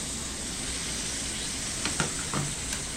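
Spices fry in a pan for dhaba-style aloo matar as green peas go in. A steady hiss of sizzling runs throughout, broken near the end by a few brief clinks and stirring scrapes, with no voices.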